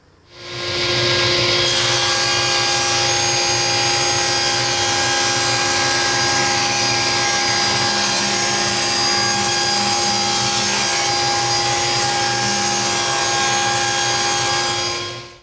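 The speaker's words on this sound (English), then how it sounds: "I will now run these pieces through to square up the opposite side of the one I just jointed" A power saw or thickness planer running steadily as wood pieces are fed through to square the side opposite a freshly jointed face, a loud continuous machine roar with a rising whine lasting about fourteen seconds, alone without talk.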